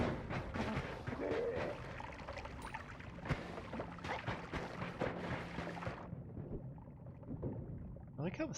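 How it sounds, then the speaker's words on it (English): Underwater sound in the video game Noita, with dull, muffled splashing and bubbling that drops to a quieter, damped wash near the end. "I like how the sound gets muffled as you go underwater"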